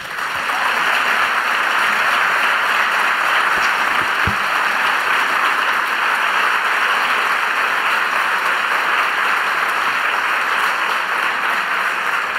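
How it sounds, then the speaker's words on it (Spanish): Steady, sustained audience applause at a zarzuela event honoring two people, a dense even wash of clapping that holds at full level for about twelve seconds with no voices. "quiero pedirles un especial aplauso por ellos dos."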